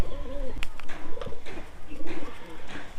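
Pigeons in a loft coo in soft, repeated low rolls, several calls spaced through the moment, while someone talks over them close by.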